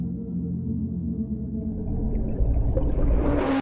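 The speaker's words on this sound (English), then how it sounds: "Sound like a whale?" Whale vocalization from deep water, long tonal moaning calls layered over a low rumble, building denser and louder toward the end before cutting off abruptly.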